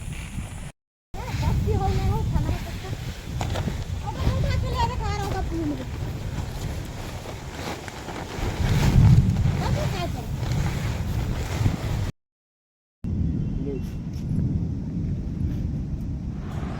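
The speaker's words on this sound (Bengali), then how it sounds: "এটা তো বাতাস বাতাস ঝড় উঠছে মনে হয়" Strong wind rises ahead of a storm in a rural village, gusting and buffeting the microphone in a steady rough rush, while voices talk intermittently over it.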